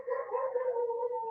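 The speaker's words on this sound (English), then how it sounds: "Sorry about the dogs in the background." Dogs in the background let out a brief, faint, drawn-out howling yowl, distant and muffled.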